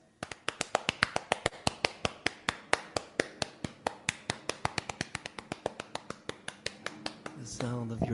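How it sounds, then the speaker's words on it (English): Hands slapping on thighs in a fast, even stream of crisp, close taps, as body percussion, continuing for several seconds before a voice starts near the end. "the sound of your thighs"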